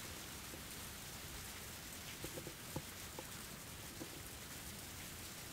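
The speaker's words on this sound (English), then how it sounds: "I heard the sound of rain pattering on the rooftop and the raindrops jumping into puddles." Soft, steady rain patters on a rooftop and into puddles in the Higurashi When They Cry Hou video game, a faint continuous hiss with a few scattered louder drips.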